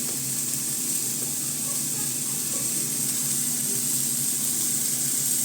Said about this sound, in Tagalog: Initin na natin yung 4 na bun natin.